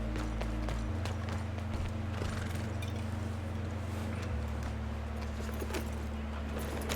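Horse hooves clip-clop in the Red Dead Online game, a steady rhythmic clatter over a constant low engine-like hum and background drone, faint but continuous throughout.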